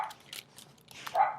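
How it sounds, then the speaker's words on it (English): Dogs bark in short scattered yips at a distance, faint and hollow behind a quiet indoor room. "hopefully my dogs will stop barking soon"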